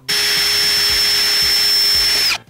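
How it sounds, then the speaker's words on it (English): A power drill bores a hole through the middle of an IKEA FLISAT wooden stool seat, one loud continuous high whine held for about two seconds before spinning down, close and alone. "we're gonna drill a hole right in the middle where the ear's gonna sit."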